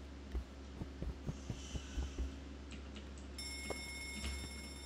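A phone rings inside a Backrooms horror video game, a steady electronic ringing tone that starts partway through over a low hum and scattered soft thumps.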